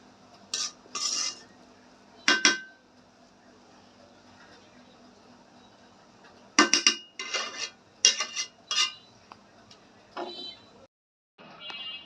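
A spoon scrapes and clinks against a pot while meat is mixed into home-made chicken pulao, coming in short separate bursts of stirring with quiet gaps between them.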